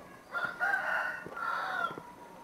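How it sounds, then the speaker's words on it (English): Chickens calling in a steady, drawn-out run of crowing and clucking, moderately close, with low outdoor background noise and no voices. "There's some chickens. Hey, chickens."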